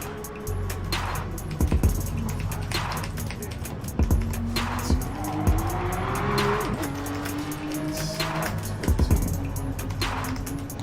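Porsche RSR race car in GT Sport on the Tsukuba circuit, its engine droning steadily and rising and falling in pitch through gear changes, with brief tire squeals as it corners.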